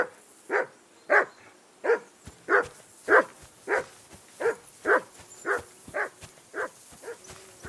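A dog barks in Kingdom Come Deliverance 2, a steady series of about thirteen evenly spaced barks, loud and fairly close, with nothing else over it.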